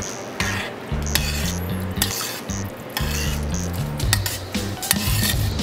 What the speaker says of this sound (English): I'm gonna keep stirring it.